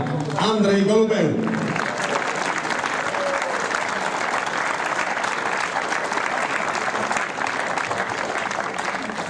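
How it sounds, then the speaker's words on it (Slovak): Sustained applause fills the room for the doubles winners at a tennis challenger trophy ceremony in Poprad, with a voice speaking over the clapping at the start. "najväčší potlesk vo štvorhre patrí samozrejme víťazom Uruguay Ariel Behar"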